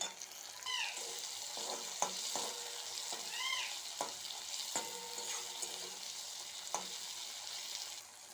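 Tomatoes and a few green chillies frying in hot oil for a tangra fish tel jhal, a steady close sizzle broken by sharp clinks and scrapes of a spatula stirring the pan.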